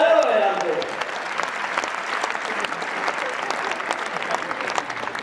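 Steady audience clapping at a Hindi hasya kavi sammelan, a brief voice at the very start before continuous dense applause carries on evenly to the end.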